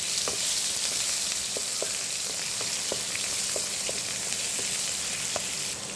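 Onions frying in hot oil with whole spices such as coriander seed, cinnamon, cloves and cardamom for a fish curry, a steady dense sizzle with scattered small pops and crackles throughout, close and continuous with no talking.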